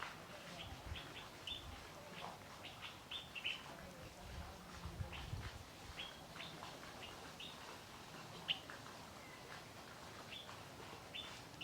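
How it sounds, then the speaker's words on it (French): Birds chirp and call beside a small pond where animals come to drink at dusk and dawn, with soft, scattered tweets over a faint outdoor background. "Le chant des espèces d'oiseaux vous traverse, vous berce."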